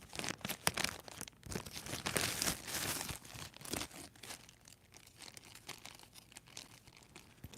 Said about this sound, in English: This plastic bag is so old.